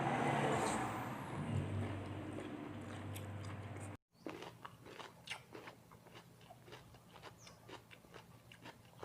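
Close, crisp biting and crunching on a thick tentacle of blanched giant octopus, a run of sharp crackly bites and chewing after a brief gap, with no talk.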